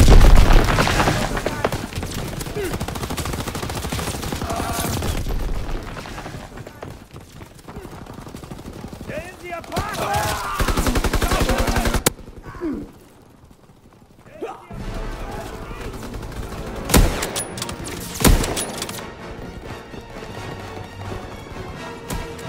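Video game gunfire and explosions in Call of Duty: WWII, with irregular sharp shots, bursts and booms mixed with chaotic battle noise, some loud and some distant, while a player talks throughout.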